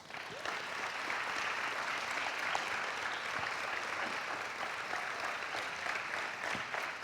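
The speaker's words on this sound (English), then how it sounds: "Would you please join me in giving them a huge round of applause?" A graduation audience gives warm, continuous applause for the graduates and their training facilitator, a steady even wash of clapping heard at a moderate distance.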